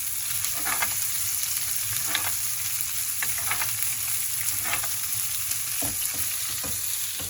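Frothy butter is spooned repeatedly over a tomahawk steak searing in a pan, a constant loud close sizzle with soft clinks and splashes from the basting spoon every second or so, no talking.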